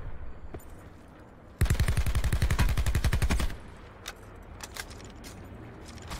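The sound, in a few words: gunfire in video game Call of Duty: Blackout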